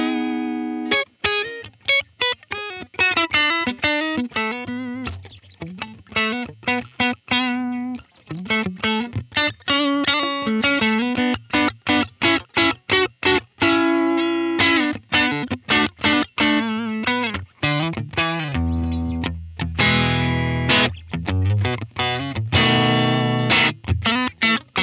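An electric guitar played through a Universal Audio pedal gives a Fender-style amp tone with reverb and tremolo, picking loud, rhythmic chords and single notes continuously, ending in a deeper, thicker strummed passage.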